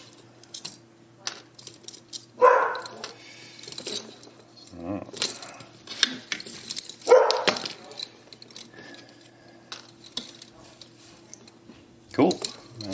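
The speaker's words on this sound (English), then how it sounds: "he was just a tiny little puppy who didn't do things like bark at windows" A dog barks indoors, apparently at a window: two or three sharp bursts spaced several seconds apart, set among light clinks and handling noises in a quiet room.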